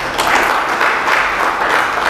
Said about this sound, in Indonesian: Kita beri sorak-sorai bagi Tuhan.